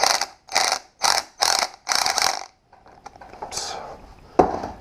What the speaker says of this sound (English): now we will tighten this to 10 inch pounds, and then, I'm sorry, 10 foot pounds and 16 foot pounds